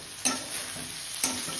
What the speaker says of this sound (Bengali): আলুগুলো হালকা একটু ভাজা হোক